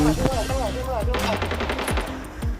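Rapid automatic AKM rifle fire in the Arena Breakout video game, a close, loud burst of sharp repeated shots running steadily for under three seconds.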